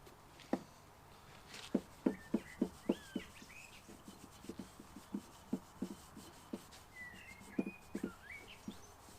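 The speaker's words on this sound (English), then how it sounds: "what I'm going to do is just give it a little bit of a rub with some linseed oil" Linseed oil is rubbed onto an old axe head dug up while metal detecting, making a steady series of soft, quiet scrubbing strokes in a regular rhythm, close by with no talking.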